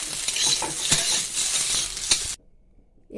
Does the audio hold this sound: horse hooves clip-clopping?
no